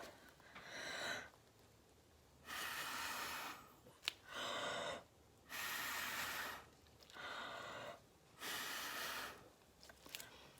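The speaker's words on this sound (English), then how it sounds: "I gotta blow my hair." Someone blowing air from the mouth to move hair aside, five or six close breathy puffs of about a second each, separated by short pauses.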